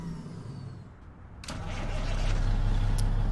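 A heavy diesel Cat 600 engine in a Mack truck in Euro Truck Simulator 2 cranks and catches, then settles into a steady, loud rumble that grows slightly louder and holds.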